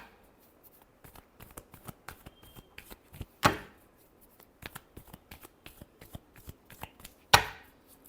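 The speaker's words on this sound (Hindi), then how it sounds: "Last shuffle." Tarot cards being shuffled by hand up close, a steady run of soft papery riffles and taps broken by two sharper louder riffle bursts.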